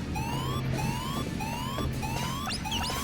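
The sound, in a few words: security alarm tripped in the video game Blue Dragon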